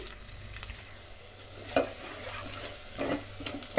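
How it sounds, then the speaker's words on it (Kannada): Onion and curry leaves frying in oil in a pan for an egg dish, a steady hiss of sizzling with intermittent clinks and scrapes of a spoon stirring against the metal, close and continuous. "ಅದರ ಜೊತೆಗೆ ಸ್ವಲ್ಪ ಕರಿಬೇವಿನ ಸೊಪ್ಪನ್ನು ಕೂಡ ಆ್ಯಡ್ ಮಾಡ್ತಾ ಇದ್ದೀನಿ. ಇಷ್ಟನ್ನು ಫ್ರೈ ಆಗಲಿ."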